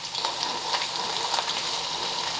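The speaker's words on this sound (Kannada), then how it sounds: "ಎಣ್ಣೆನೂ ಬಿಸಿ ಆಗೈತಿ, ಬೆಳ್ಳುಳ್ಳಿನೂ ಫ್ರೈ ಆಗ್ಯಾವ" Garlic fries in hot oil for mango pickle, giving an even, soft crackling sizzle with faint bubbling pops, steady and close throughout.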